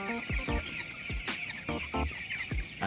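Fifteen-day-old chickens cluck and peep close by, a busy run of short, overlapping calls repeating every fraction of a second, with no talking.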